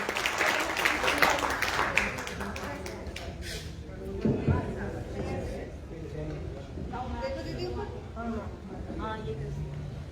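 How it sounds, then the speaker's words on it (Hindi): An audience at a 2022 Hindi women poets' gathering applauds poet Dr. Kirti Gale with dense, steady clapping that fades into a continuing murmur while a host speaks over it. "आप लोग जोरदार तालियों से जितने भी लोग हैं बुलाइए यहाँ पे कीर्ति गाले जी"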